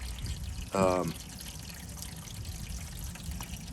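Water pours steadily with a soft hiss during a water change for outdoor medaka rice-fish tubs, with a brief voice-like chirp near the start.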